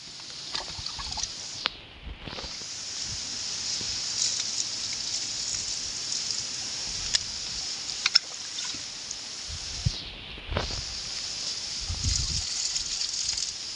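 Ampalaya plant watered with dissolved salt and chlorine water, a steady soft splashing pour into soil that briefly stops twice, close and continuous.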